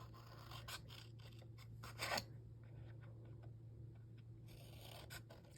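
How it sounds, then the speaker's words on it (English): Several short crisp snips and rustles of scissors cutting patterned paper, close up and fairly quiet, in irregular bursts with a brief louder cut in the middle. "I'm just using my snips."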